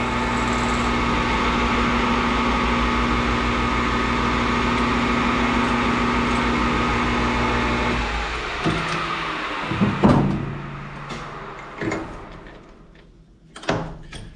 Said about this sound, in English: I'm going to drill 200 thousandths deep.